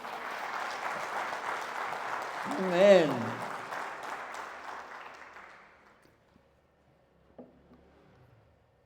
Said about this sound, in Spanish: Vamos juntos a dar una ofrenda de palmas